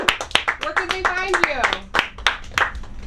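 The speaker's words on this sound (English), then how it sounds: "Round of applause for that." Scattered hand claps from a small comedy-show audience, sharp and uneven, mixed with a whooping cheer and voices talking over the clapping.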